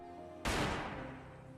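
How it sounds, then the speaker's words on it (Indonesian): One loud gunshot cracks suddenly after a quiet hum, then echoes and fades slowly, with no voices. "Ketika mereka keluar, terdengar suara tembakan"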